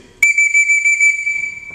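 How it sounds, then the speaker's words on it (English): A single emergency whistle blast on an archery range, loud and shrill, held steadily for about a second and a half before it trails off. "The first one is an emergency whistle blow."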